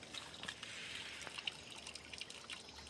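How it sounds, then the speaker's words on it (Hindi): Rainwater trickles and dribbles steadily into a cracked village wall after a storm, a faint, close, continuous flow with small scattered drips. "तो ये पानी सीधे कंटिन्यू आ रहा है पानी। ये जा कहाँ रहा है, सीधे दीवार के अंदर।"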